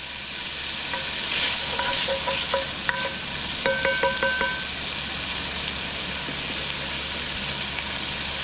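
Smoked sausage sizzles steadily in a Cajun jambalaya pot, with a spoon stirring and scraping in short bursts partway through over a constant broad frying hiss.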